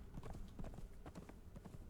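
In the video game Conan Exiles, a horse's hooves clip-clop in a quick, steady rhythm across a forest area, faint and continuous with no voices over them.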